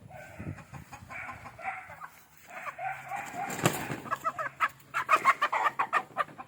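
A backyard hen clucks repeatedly just after receiving a vitamin B complex injection, her calls rising into a quick run of loud, close clucks toward the end, with faint low handling noise beneath.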